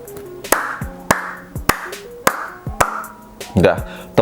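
A person claps their hands in sharp, separate claps spaced roughly half a second apart, close and fairly loud, mixed with their own speech.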